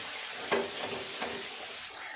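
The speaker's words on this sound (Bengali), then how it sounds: "খুব ভালো করে সমস্ত মশলাটা কষিয়ে নেব" Spice paste fries in a pan for a Bengali prawn and cauliflower curry, giving a steady, moderate sizzle and hiss with a couple of brief scraping stirs, heard close and alone without speech.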